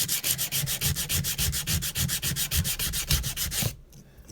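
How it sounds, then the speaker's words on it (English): Hand sanding with 80 grit sandpaper makes rapid, rhythmic back-and-forth scratching strokes, close and steady, ending abruptly just before the clip finishes. "I have to come back now and use my 80 grit because this was a rougher grit"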